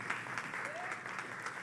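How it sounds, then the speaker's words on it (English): Audience applause at the 5th Annual Culture Creative Industry Forum in 2023, a soft, even patter of clapping in a hall, fairly quiet and steady through its short length. "Kindly give Dr. Erica Smith an astounding round of applause."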